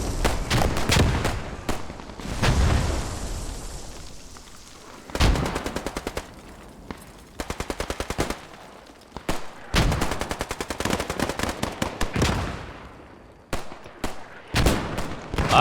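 Dense video game battle on a contested hill, with bursts of rapid automatic gunfire and scattered heavier blasts, loud and near, coming in clustered volleys with brief lulls between them.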